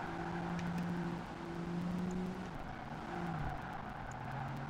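A car in Project Gotham Racing 2 drives with a steady engine drone whose pitch shifts as it changes gear, with faint tire noise and no talk.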